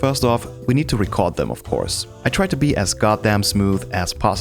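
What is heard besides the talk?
No everyday noises stand out.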